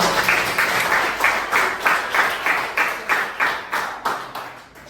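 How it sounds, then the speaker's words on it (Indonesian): A classroom group claps in unison in a steady rhythmic pattern, about a dozen even bursts at close range with no talking over it. "tepuk tangan untuk kita semua"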